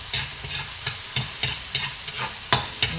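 Red onion and vegetables sautéing in a pan for caldereta sauce, a close, steady sizzle broken by rhythmic stirring scrapes and sharper clacks roughly every third of a second, with no voices.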